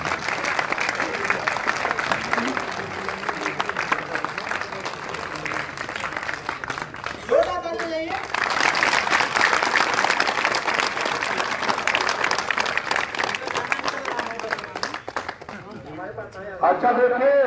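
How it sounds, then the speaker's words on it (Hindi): Sustained loud crowd applause at a political rally in Uttar Pradesh welcoming a speaker, dense clapping that fills nearly the whole stretch, with a brief pause where a voice speaks before the clapping swells again. "शंभूनाथ जी का जोरदार ताली बजा करके आप लोग स्वागत करिए"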